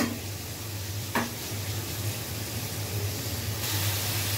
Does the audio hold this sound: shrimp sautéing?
yes